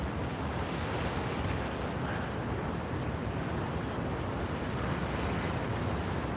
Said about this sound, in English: that noise you hear is tons of water rolling through the gates of the spillway here at the Chickamauga Dam